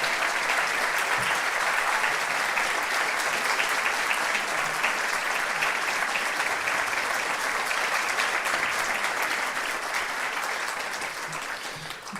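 Sustained audience applause fills a hall at a graduation ceremony, thick and even clapping from a large crowd that holds strong for about ten seconds before gradually thinning out.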